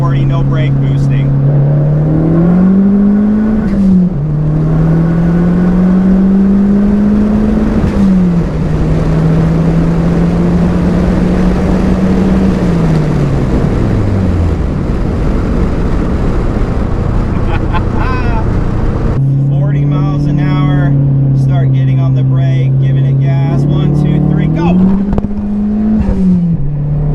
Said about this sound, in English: So just wide open throttle, going 40, no brake boosting.